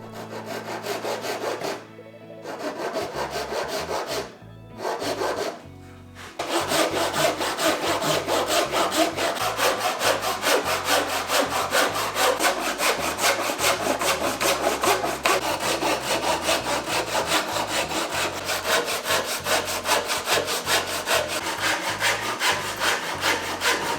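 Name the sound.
hand saw cutting wood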